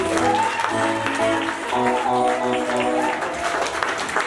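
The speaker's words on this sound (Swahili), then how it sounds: "Naomba tupigie askofu makofi mazuri." A church congregation at a salvation and healing service applauds the bishop, a dense, loud burst of clapping and crowd noise lasting the few seconds of the clip.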